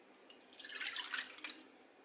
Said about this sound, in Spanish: Voy a empezar poniendo lo que es la leche.